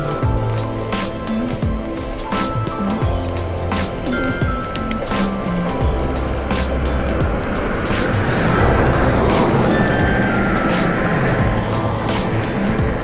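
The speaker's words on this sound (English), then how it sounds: "I hear a car behind me." Car approaching from behind a cyclist riding a road near a small lake, a low swelling engine and tire rumble that grows louder toward the end, mixed with steady wind buffeting and bike noise close to the microphone.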